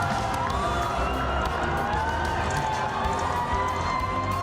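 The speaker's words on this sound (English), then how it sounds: "Fans getting rowdy after the big win." Celebrating fans on a Connecticut campus after a national championship win form a dense, continuous wall of cheering and shouting, with whistles and scattered voices rising out of the steady crowd roar.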